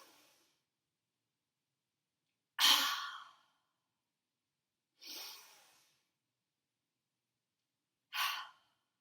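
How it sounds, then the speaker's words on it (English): Slow, deep yoga breaths during a standing yoga warm-up, with three distinct exhalations out through the mouth, each a soft breathy whoosh separated by quiet pauses, close and clear with no talking. "Inhale through your nose and then go through the mouth."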